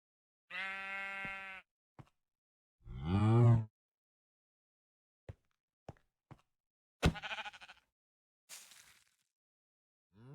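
Farm animals in the Minecraft modpack ATM9 Sky give several separate bleats and moos, with clear calls spread across the span and short clicks between them.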